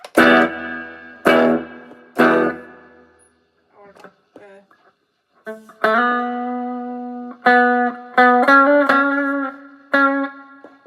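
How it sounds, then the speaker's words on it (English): Electric guitar chords and single notes through a Joyo Gembox floor modeller's plate reverb ring out with a reverberant, shimmering tail, strummed in separate stabs with gaps of quiet between. "Now plate reverb."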